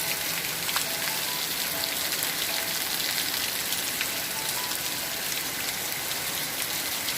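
Heavy rain pours down steadily as a dense, loud, unbroken hiss with no pauses and no voices.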